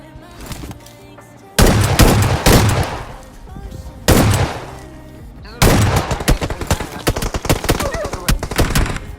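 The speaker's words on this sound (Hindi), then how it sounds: "चारों तरफ से हम पे होता है फायर और हम फंस जाते हैं इस वाले घर पे" Video game gunfire comes from all sides around a house: bursts of rapid automatic shots and single heavy bangs, loud and close, in two long volleys separated by short lulls.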